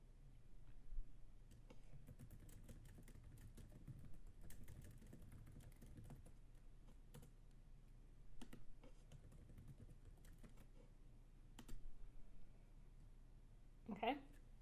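Someone types on a computer keyboard while building a web page, producing light, irregular clicking keystrokes, faint and close, with talking over parts of it.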